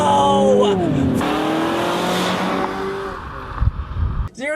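A 2016 Mazda6 sedan with a 2.5-liter engine accelerates hard from 0 to 60, its engine note rising loudly through the revs and dropping at a gear change, with a voice shouting over it.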